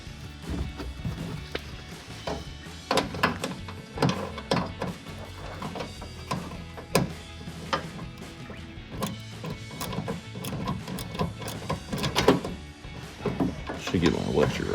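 Ratchet and shallow 10mm socket loosening a headlight bolt on a 2016-2018 Chevrolet Silverado 1500, with scattered clicks, knocks and rattles of metal against plastic, close up, with some talk in between.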